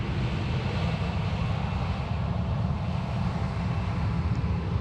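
An airliner rolling for takeoff on runway 16 left at Sydney Airport, a steady, broad, rumbling roar of jet engines held at a constant loudness throughout, with no talking.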